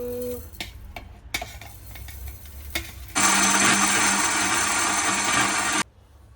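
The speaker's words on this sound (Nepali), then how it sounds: "म अघि भुटेर राखेको मसलालाई पिस्नलाई मिक्सरमा खनाउँदै छु" An electric kitchen mixer grinds roasted masala spices, its loud steady whirring motor starting abruptly after a few clicks and handling knocks and running for about three seconds before cutting off.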